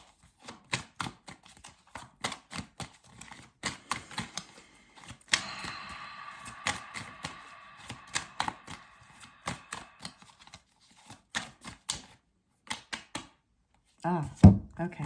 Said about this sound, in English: Shuffle better here, Shannon.